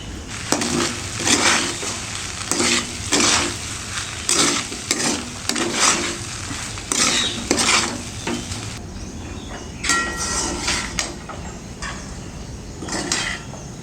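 Lemon rice is stirred and mixed in a pan with a spoon, giving repeated scraping, rustling strokes in a steady rhythm over a soft sizzle, close and fairly loud, with no voices.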